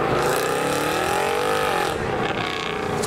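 Cars leaving a JDM car meet: an engine revs loudly with a rising, sweeping whine, then fades as it pulls away, with other vehicle noise behind it.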